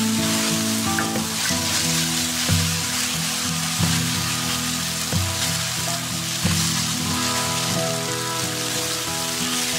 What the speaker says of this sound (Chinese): 蛋液煎熟后，开始翻炒。